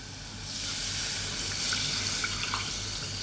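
Milk pours into a flour roux in a pan, making a steady close splashing stream over a faint hiss of heat, holding even for a few seconds.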